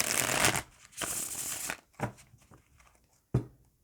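A Moon Oracle astrology card deck being shuffled in several riffling bursts, close and crisp, with brief pauses and a final sharp snap of cards.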